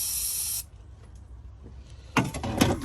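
Cleaner sprayed from a trigger bottle onto a clogged BMW F11 swirl flap during a carbon cleanup, one sharp hissing burst up front followed by quiet and then some handling clatter near the end.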